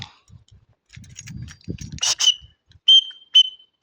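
A whistle blown on a nature trail walk at Thompson Water gives two short, sharp, fairly loud blasts near the end, after quieter rustling and low movement sounds.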